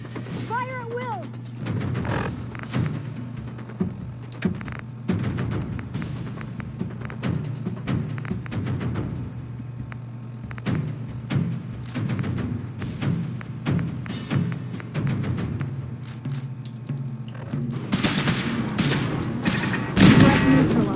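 Gunfire in Fallout 4, a steady rumble of dense shots and bursts running under game voices and music, swelling louder near the end.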